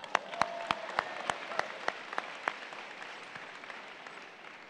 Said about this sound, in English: Class of 2018, please give yourselves a round of applause